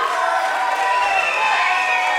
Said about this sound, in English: And the crowd are loving it.